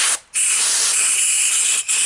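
Compressed air blows steadily through an old, dirty compressor to clean it, a loud continuous hiss broken by two brief pauses, with no talking.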